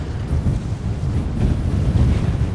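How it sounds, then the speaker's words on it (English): Steady low roaring wind in Liverpool ahead of a storm buffets the microphone, a dense rumbling rush with no pauses and no voices. "Whoa, Claire, it's getting windy, isn't it?"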